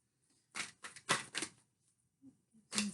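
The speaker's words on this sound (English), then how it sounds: "But I do like to shuffle a little bit on camera." Tarot cards are shuffled up close, quiet riffling bursts in quick clusters separated by brief pauses, soft and papery against near silence.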